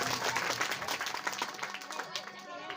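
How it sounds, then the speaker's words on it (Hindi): An audience at a Devi Bhagavat Purana religious discourse gathering claps loudly and continuously, a dense, close crowd of hands that thins slightly toward the end. "जोरदार ताली।"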